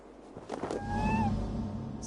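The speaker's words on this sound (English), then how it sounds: "Who put you up here, little cat?" A small cat in Assassin's Creed Valhalla, perched up high near a statue, gives a single drawn-out meow over low game ambience, close and fairly clear.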